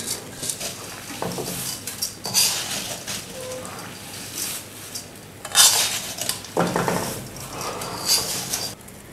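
A metal spoon scrapes and clinks against a hot kadhai while spices for chewra nimko are stirred, irregular close clattering strokes repeating over several seconds.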